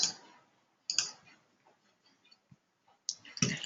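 A computer mouse clicks on an add button in a few sharp, isolated taps, close and faint, spread across a mostly quiet stretch.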